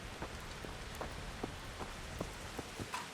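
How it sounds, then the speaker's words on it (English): Rain falls in the medieval video game Kingdom Come: Deliverance as a soft, steady patter. Scattered light drop taps sound over quiet background hiss, faint and without voices. "It's raining!"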